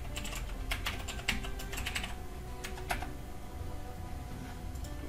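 Fast clattering keystrokes on a computer keyboard come in quick bursts with short pauses, close and fairly loud against a steady background hum.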